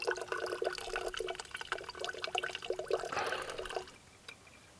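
Water trickles and spatters steadily through a Sawyer Squeeze filter outdoors on a backpacking trip, close and fairly soft, then tapers off to a faint dribble near the end.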